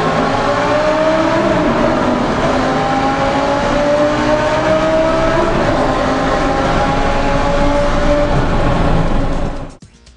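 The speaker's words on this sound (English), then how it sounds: "give it plenty in the low gears just to hear the exhaust note reverb back" 2008 Lamborghini Gallardo Superleggera with E-gear transmission pulling hard through low gears, its loud exhaust note building in pitch for about nine seconds before dropping away suddenly.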